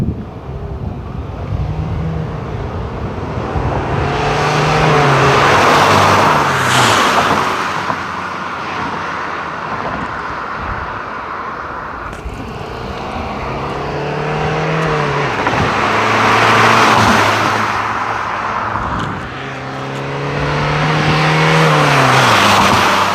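Several Volkswagen Golf 4 TDI cars pass by one after another, engines swelling loudly as they approach and fading away, with shifting gears and revving.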